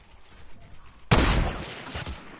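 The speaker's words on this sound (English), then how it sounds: "shoot at him" A sudden loud burst of automatic gunfire in a video game breaks a quiet stretch and keeps rattling densely to the end, close and harsh.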